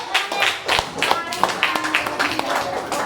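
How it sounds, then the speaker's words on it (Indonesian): Classroom students clap their hands together in a burst of scattered claps, fairly close and steady, with voices chattering over the clapping. "Tepuk tangan untuk"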